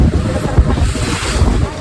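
A boat thuds and splashes through choppy salt-water sea waves off Nivati amid loud wind buffeting the microphone, a rough continuous rush of water.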